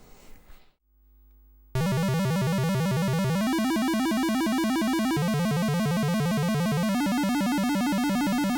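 An Arduino beeper plays simple chords as rapid arpeggios, a harsh square-wave chiptune stream of fast repeating pitches that starts abruptly after a short quiet pause and continues loud and steady.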